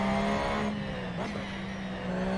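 A Porsche race car in Assetto Corsa holds a steady, loud droning engine note, with a brief squeal or shift in pitch partway through.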